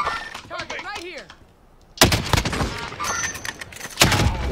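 Bursts of automatic gunfire in a Warzone battle royale match, loud and close, with sharp repeated shots crowding the second half after a quieter stretch, and talk over the firefight.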